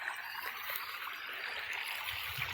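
Water from a canal flows steadily through an irrigation channel in a brinjal field, a soft continuous trickling rush heard faintly at a little distance.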